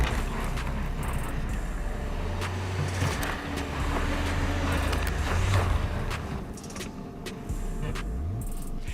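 An SUV's loaded wheels spin in place in snow, a steady churning engine drone with grinding, scraping and crunching as the tires fail to grip on a snowy obstacle course. No one speaks over it.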